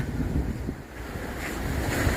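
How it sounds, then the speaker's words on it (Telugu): Waves and wind at Adikadalayi beach in Kannur, Kerala, where backwaters meet the sea; a low rolling surf wash blows under steady wind buffeting the microphone, with no voices. "ఈ బ్యాక్ వాటర్స్ కలిసే ప్లేసే దీన్ని ఆది కడలాయి బీచ్ అంటారు"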